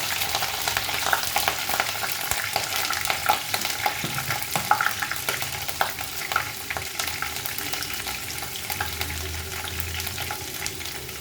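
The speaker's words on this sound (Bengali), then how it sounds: "রসুনটা হালকা হালকা ভাজা ভাজা হবে।" Garlic sizzles and fries steadily in hot oil in a wok for chicken do pyaza, with a constant crackling hiss and occasional stirring scrapes. No one speaks over it.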